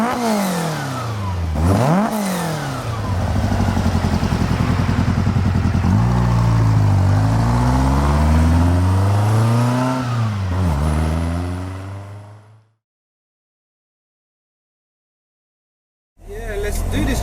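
A road-legal drag-built VW Beetle engine revs hard while driving, loud rising and falling surges with gear changes for about twelve seconds, then cuts to silence before the engine noise briefly returns.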